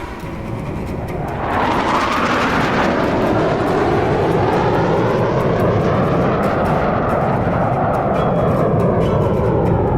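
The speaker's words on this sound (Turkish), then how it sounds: "Pilotumuz uçağımızın her detayını sizlere göstereceği köşeli tonu hareketini sergilemek üzere solunuzdan yaklaşıyor." Propeller aircraft approaching at an air show in Adana, a loud engine roar that swells and shifts in pitch as it comes in from the side and passes close, with no talk over it.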